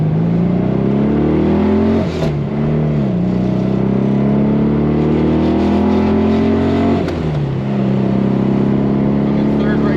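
A 1967 Porsche 912 engine pulls through the gears from inside the car, its droning note rising steadily, dipping at two gear changes and climbing again, loud and continuous while a person talks.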